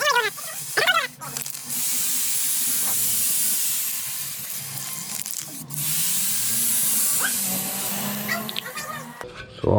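Aerosol spray paint in matte satin black hisses onto a 100mm velocity stack in two long sustained bursts, close and fairly loud, with brief voices and background sounds in the gaps.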